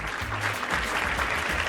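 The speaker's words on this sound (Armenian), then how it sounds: "ծափահարենք Լիային" A studio audience on a television show applauds warmly, many hands clapping in a dense, continuous burst with a low rumble of music or stage noise beneath it.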